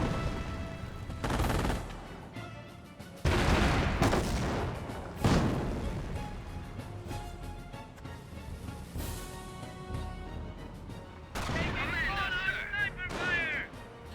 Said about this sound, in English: Sniper does take a shot there